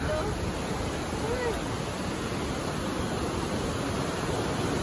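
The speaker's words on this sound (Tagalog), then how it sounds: "Ang lakas ng ragasa ng tubig." Water rushes powerfully over Wawa Dam in Rodriguez, Rizal, a loud, unbroken roar of churning river flow filling the whole stretch at close range.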